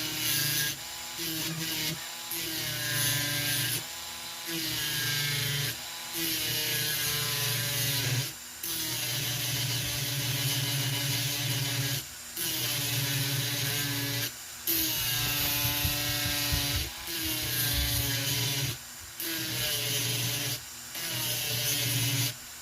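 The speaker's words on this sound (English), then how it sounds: "And this hard metal grinds pretty easy, so just be careful." A Dremel grinds hard metal on a Junfac driveshaft for a 4Runner, a steady rasping whine that runs on and off in bursts with brief pauses between passes, close and fairly loud.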